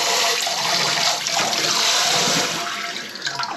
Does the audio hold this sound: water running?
yes